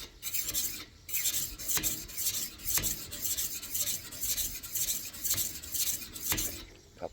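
Rhythmic rasping strokes of a Winklez rolling knife sharpener honing a knife edge on the finer piece, about eight close back-and-forth scrapes in steady succession, with no voices.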